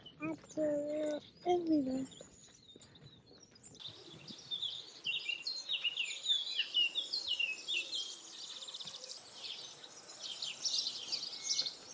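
Chirping birdsong rises over a soft outdoor background at a home in Italy, with a brief murmur of voices at the start before the birds take over.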